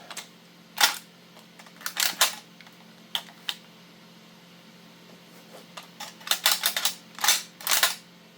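A Northeast MP2A1 rifle fires full auto in several short, rapid bursts of sharp mechanical clacks, separated by pauses of near silence, with a longer cluster of bursts toward the end.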